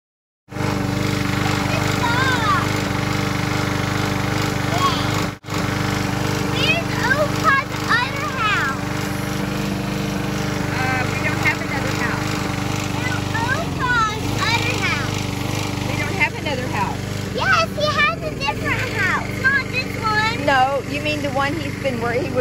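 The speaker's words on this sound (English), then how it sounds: "She's mowing this time instead of trimming bushes." A lawn mower cuts grass with a steady, continuous engine drone close by, while people talk over it throughout.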